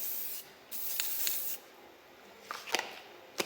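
Aerosol spray can applying clear coat to a 3D-printed Power Rangers helmet, several short hissing bursts close by with pauses between them, no talking.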